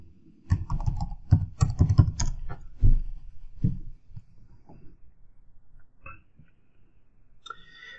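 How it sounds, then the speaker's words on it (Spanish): An IP address being typed on a computer keyboard while an Ubiquiti AC antenna is set up, rapid close clicking keystrokes in a burst, then a few scattered taps, with no talk. "vamos a teclear la dirección IP de la segunda antena"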